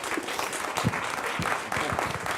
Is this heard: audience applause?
yes